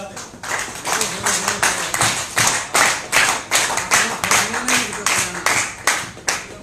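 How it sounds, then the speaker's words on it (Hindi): An indoor audience at a calcium training session claps in steady, tired rhythmic beats, loud and close, with no speech over it. "बहुत शुक्रिया थकी हुई तालियां बजाने का"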